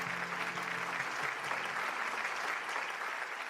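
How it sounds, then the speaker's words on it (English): Steady applause from a crowd, dense clapping filling the whole stretch at an even level, with a brief low hum early on. "Please send them a warm round of applause."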